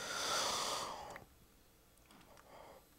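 A person yawns with a long, breathy exhale that trails off, followed by a few faint breaths and small mouth sounds, close and fairly quiet.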